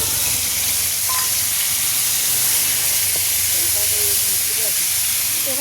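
Ginger, cumin and black pepper sizzle in very hot oil over a red-hot stove, a loud steady hiss filling the whole stretch with faint clatter beneath.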